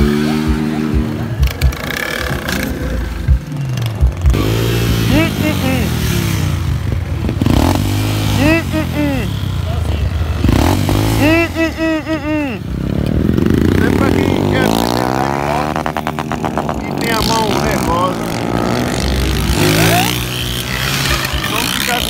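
Motorcycles rev hard and rise and fall in pitch during a Sunday street stunt meet in Brazil, the engine bouncing off the limiter again and again, loud and near, with crowd voices and shouting mixed in throughout.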